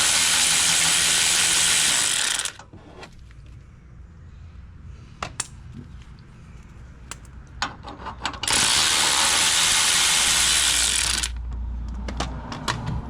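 A ratchet spins out 15 mm bumper bracket bolts on a 2014-2019 GMC Sierra or Chevy Silverado truck. Two long, loud bursts of rapid clicking are separated by a quieter stretch of scattered metallic taps and clunks.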